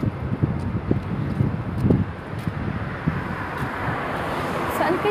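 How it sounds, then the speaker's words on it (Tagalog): Wind gusts outdoors on a walk, a steady broad rush with low rumbling buffets against the microphone, continuous and fairly close throughout. "Sarap ng hangin."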